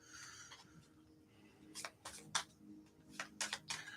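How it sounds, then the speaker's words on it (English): A tarot deck shuffled by hand: a run of crisp, papery riffling bursts in an irregular rhythm, close but quiet, after a softer rustle. "right now I'm shuffling my cards"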